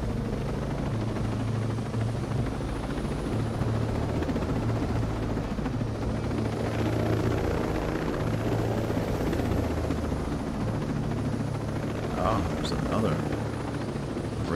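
A rescue helicopter in the video game Ghost Recon Breakpoint thrums steadily nearby, a continuous low rotor drone filling the scene with brief higher sounds near the end.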